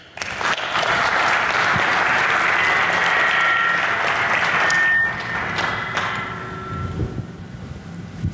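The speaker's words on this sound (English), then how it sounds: "So please, I request a warm applause for them." Loud applause from a conference audience fills the space for about five seconds, then thins into scattered claps and room noise as it dies away.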